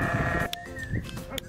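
A sheep bleats loudly up close in a wavering call, followed by a couple of shorter bleats, with low farmyard rumble underneath.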